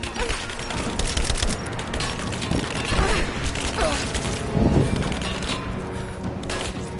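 Sustained video game gunfire in Rise of the Tomb Raider, a dense fusillade of rapid shots with booms and mechanical clatter, loud and continuous throughout.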